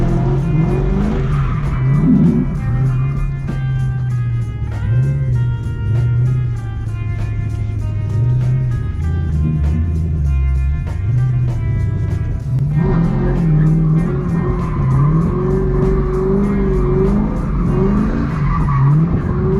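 Ford Mustangs drifting on a track: loud, sustained tire squeal layered over engines revving up and down, with shifting pitch through each slide and a brief break before the next run.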